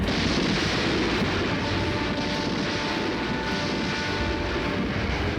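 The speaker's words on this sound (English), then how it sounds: "Hitler wakes up to massive Russian artillery and aerial bombardments." Massive artillery fire and aerial bombardment in Berlin, a dense continuous roar of explosions and aircraft rumble, loud and unbroken with no voices.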